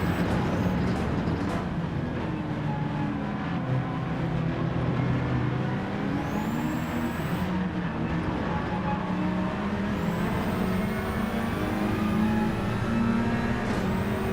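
A race car in Gran Turismo 7 on hard tyres revs hard through wheelspin, its engine roaring loud and continuous with rising and falling pitch and brief tyre squeal over the top.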